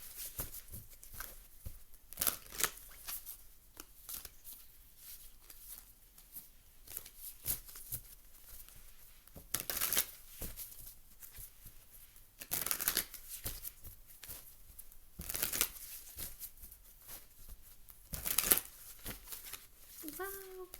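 Tarot cards are shuffled over and over, giving soft riffling and brisk flapping bursts at close range, quiet overall with faint background sounds.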